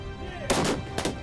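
Military salute gunfire at a war memorial ceremony: two loud, sharp volleys about half a second apart, each with a rough, noisy burst and tail over a steady outdoor background.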